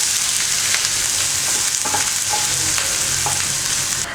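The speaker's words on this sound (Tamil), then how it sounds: "உளுத்தம்பருப்பு கடலைப்பருப்பு நல்லா பொன்னிறமாக வருந்ததும் கட் பண்ணி வச்சுருக்கிற வெங்காயம் போட்டுடலாம்." Chopped onions fry in hot oil with mustard seeds, urad dal and chana dal, giving a loud, steady, close sizzle that runs throughout.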